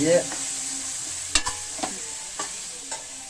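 Goat meat being stirred with coriander powder in a hot pan, giving a steady close sizzle with a few sharp scraping clinks of the spoon against the metal.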